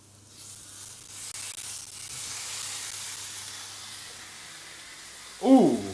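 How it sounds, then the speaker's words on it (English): Steak sizzles softly and steadily in a hot pan, a faint continuous hiss, with a short voice sound near the end. "Hear that sizzle."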